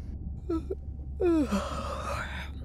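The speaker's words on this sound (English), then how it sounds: "Was that a yawn?" A drawn-out yawn in the video game Beyond Blue, with a rising then falling breathy groan, preceded by a couple of short vocal sounds, close and fairly quiet.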